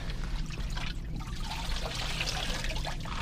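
Water from a sump pump discharge line drains and trickles steadily out of a crawl space line after an old, burned-out pump is pulled, a continuous watery rush with a low hum underneath, close and fairly quiet.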